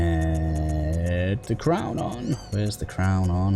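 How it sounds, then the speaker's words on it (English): Kittens meow in the background while someone talks over them, their cries blending with the steady drone of the Bloodborne game soundtrack. "Apologies if you guys can hear meow in the background"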